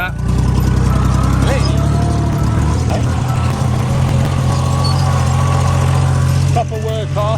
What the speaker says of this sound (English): Proper workhorse, this old Kubota